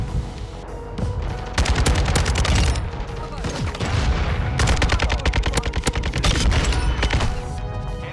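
Rapid automatic gunfire from an RPK light machine gun in Modern Warfare 2 rattles in dense, repeated bursts, loud and close, with brief gaps between volleys and game sounds underneath.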